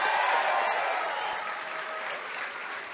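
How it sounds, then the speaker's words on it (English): A rally crowd at the National Guard Armory in Lawrenceville, New Jersey, breaks into dense, sustained applause, loud and steady at first and easing slightly toward the end, with a faint murmur of voices mixed in. "Let's give Mayor Kelly Hatfield another round of applause."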